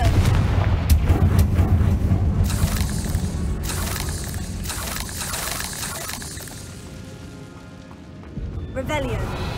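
Blasting curse explosions in Hogwarts Legacy, booming blasts and crackling bursts layered over dense game combat noise, loud throughout with a fresh burst near the end; a voice speaks over the action.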